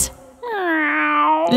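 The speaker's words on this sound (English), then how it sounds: "No, Bartolito, that's a cat!" A single drawn-out meow, close and clear, rising then holding steady for over a second before ending abruptly.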